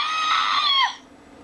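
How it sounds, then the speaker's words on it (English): A sound effect toy plays a short, shrill electronic scream that wavers and bends downward before cutting off, loud and close with no talk. "And somebody's screaming."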